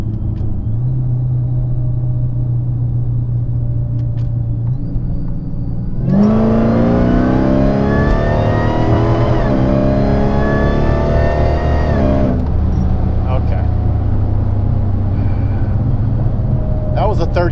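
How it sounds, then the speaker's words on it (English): Dodge Challenger SRT8 V8 in a third-gear pull from 40 mph: a steady idle-like rumble gives way to a loud, hard-revving engine note that climbs steadily in pitch for about six seconds, then drops back to a lower drone. "third gear pull from 40."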